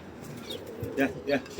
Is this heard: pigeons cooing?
yes